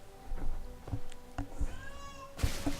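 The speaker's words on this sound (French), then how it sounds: "je t'entends pas avec le chat qui gueule" A cat yowls right next to a microphone in a home gaming voice chat. Several loud, drawn-out wavering meows come one after another with short gaps between them.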